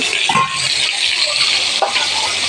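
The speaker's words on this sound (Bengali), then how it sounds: "এই সবজিগুলো আস্তে আস্তে ভাজতে থাকি" Vegetables frying in oil in a home kitchen, a loud steady hiss and sizzle close up, with brief stirring clinks breaking through.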